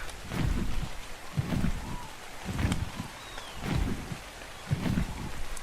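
Steady rain hisses in a stormy scene in the video game Ark: Survival Evolved, with heavy low rumbles of thunder rolling in at a regular pace about once a second.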